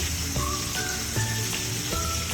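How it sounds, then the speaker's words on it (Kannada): Curry leaves crackle and sizzle in hot oil for a fish curry, a close, dense spitting hiss over the whole stretch with faint music tones underneath and no talk. "ಕರಿಬೇವಿನ ಸೊಪ್ಪು ಹಾಕ್ತಾಯಿದ್ದೀನಿ"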